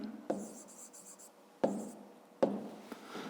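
A math exercise being written down by hand, three distinct pen or chalk strokes with scratchy taps against a quiet room background.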